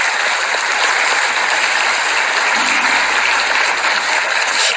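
Party members at a Democratic Party assembly clap in sustained, dense applause that fills the room continuously for several seconds.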